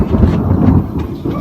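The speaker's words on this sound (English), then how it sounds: "Oh, I thought that was a barbecue. It was thunder." Thunder rumbles as a deep, continuous low roar that rolls steadily for over a second, fairly loud and close, with no clear crack.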